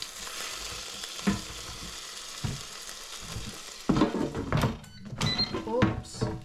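Pork belly slices sizzle and crackle while crisping in an air fryer, with a steady hiss broken by louder bursts of spitting and popping toward the end, heard close and without talk.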